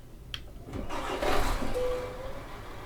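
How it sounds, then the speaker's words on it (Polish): A heavy truck engine in Euro Truck Simulator cranks and catches, then settles into a low, rumbling idle, fairly quiet and steady. "A jeszcze teraz wam pokażę jak ten silnik brzmi."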